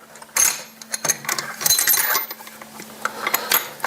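Metal sockets being rummaged through and handled, giving repeated bright clinks and jangles of steel on steel, close and busy with irregular bursts of rattling.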